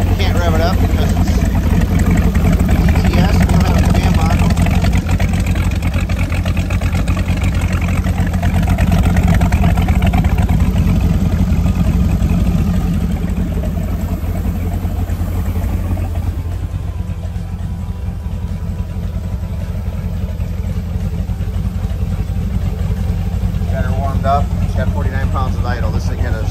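A repaired Mercruiser 8.2 MAG HO marine engine from a 2016 boat idles loudly and steadily with a constant low rumble, and someone talks over it part of the time.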